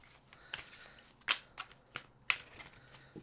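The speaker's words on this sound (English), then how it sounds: "Shuffle it up a little bit." A Wisdom of Avalon oracle card deck is shuffled by hand at close range, producing a handful of sharp, separate riffling snaps and flicks spaced irregularly in a quiet room.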